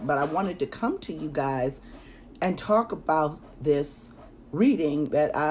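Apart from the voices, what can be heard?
None of the usual background noises is heard.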